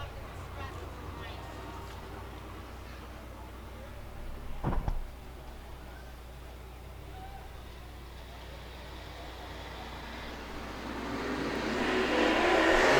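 Dirt track race cars at Ocean Speedway roar off the start of an eight-car heat race, engine noise building toward the end beneath a commentator's steady talk.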